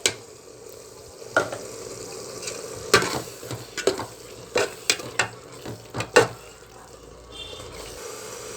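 Tomato rice sizzles in a pan and is stirred, with a low bubbling bed under a series of sharp scraping and clinking strokes from the spoon.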